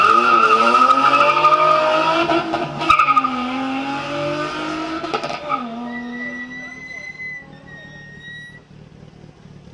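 A Nissan rally car on a special stage of the Rallye des Grands Fonds, its engine revving and rising in pitch through the gears close by, then fading with distance as a commentator talks over it.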